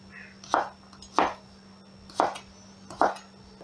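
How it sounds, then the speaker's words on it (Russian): A knife chops carrots on a board for plov, four sharp, evenly spaced strikes about two-thirds of a second apart, close and clear over a faint steady hum. "Я когда режу морковь, я вообще не парюсь"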